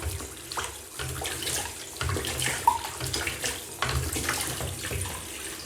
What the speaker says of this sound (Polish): Teraz już mogę całkowicie otworzyć koreks. I płukać film.